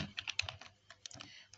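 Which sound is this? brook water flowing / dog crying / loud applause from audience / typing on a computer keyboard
typing on a computer keyboard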